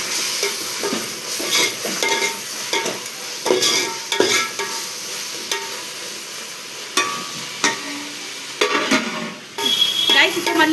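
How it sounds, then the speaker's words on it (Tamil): Onions with ginger garlic paste being sautéed for a chicken biryani, a sizzling pan punctuated by repeated spatula scrapes and clinks against the pot, uneven bursts of stirring over a steady fry. "இஞ்சி பூண்டு போட்டு கொஞ்சம் லைட்டாக வதங்க விடுவோம்."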